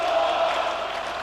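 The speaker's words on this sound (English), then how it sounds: "The crowd singing "Sack the Board."" Newcastle football crowd at a 1988–89 match chanting "Sack the Board" in protest, a dense, loud, sustained roar of many voices filling a stadium.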